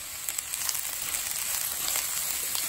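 Cabbage with garlic and onion frying on high heat for chicken fried rice, a steady bright sizzle with crackling pops close by, continuous and without talk.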